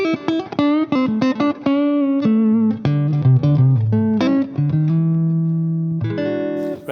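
Electric guitar running up and down an A blues pentatonic scale, quick clean single notes with bends and a held low note near the end, loud and close with no talking.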